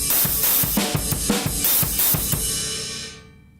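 A drum kit plays a steady groove that alternates two snare strokes with two hi-hat strokes, with kick accents underneath. The strokes are close and loud and keep an even repeating rhythm for several seconds before ringing out.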